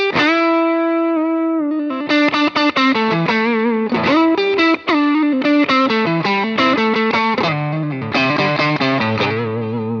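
Electric guitar played through a Tank Zentro overdrive pedal, a thick saturated tone with sustained chords and melodic runs, loud and continuous with no talk.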